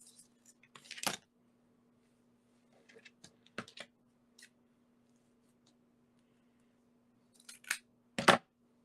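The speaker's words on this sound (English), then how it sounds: "we'll use the big scissors" Big scissors make a few crisp snips at close range in a quiet room, with scattered light taps and rustles between the cuts.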